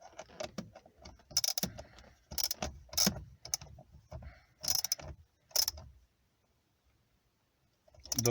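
A battery terminal clamp being tightened, a run of close metallic clicks and ratcheting bursts, uneven in rhythm, that stop abruptly with a short silence before one more burst.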